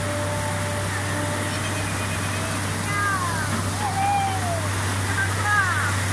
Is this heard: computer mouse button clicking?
no